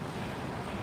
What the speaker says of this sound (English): it's so windy, and it makes it a little bit chilly